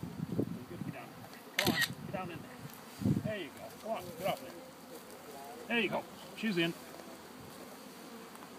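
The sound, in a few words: honeybees buzzing around queen cage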